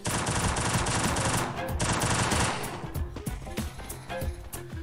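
Rapid bursts of automatic gunfire in a shooter video game, loud and dense, sustained for several seconds before thinning into scattered shots and clicks, with no voices over it.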